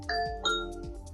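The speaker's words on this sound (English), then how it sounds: "into a beautiful sound that will play from all your Echo devices and sounds like this" A two-tone electronic doorbell chime played from Amazon Echo speakers rings twice in quick succession, bright and ringing with a soft decay, over a faint low hum.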